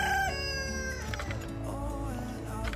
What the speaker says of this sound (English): Apparently it's time to feed the chickens.